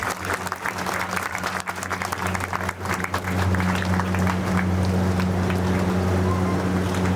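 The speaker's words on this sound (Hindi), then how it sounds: "ताड़ियों की गड़गड़ाहट रुकनी नहीं चाहिए।" Audience at a ceremony applauding loudly and steadily, a dense rain-like patter of many hands clapping that swells and holds throughout.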